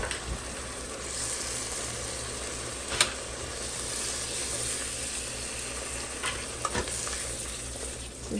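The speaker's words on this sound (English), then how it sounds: "So just keep stirring this mixture" Spinach dip mixture being stirred in a hot pan, a steady sizzle running throughout with scraping spoon strokes and a few sharper knocks against the pan, fairly close.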